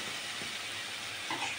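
Chicken pieces frying in a pan for a chicken and chickpea curry, a soft steady sizzle with faint clinks of stirring, quiet and close, with no talking.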